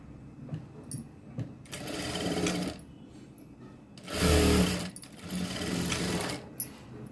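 A sewing machine stitches a blouse, with shoulder seams being joined, in three loud whirring bursts separated by quieter pauses and short clicks, heard close up with no talking.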